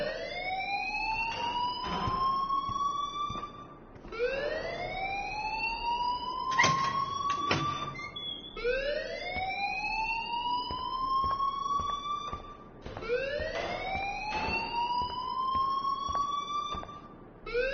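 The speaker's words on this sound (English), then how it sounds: "please turn off that alarm since that's your job" A siren-like alarm wails steadily in repeated rising sweeps, each lasting about four seconds, loud and continuous throughout with no voices over it.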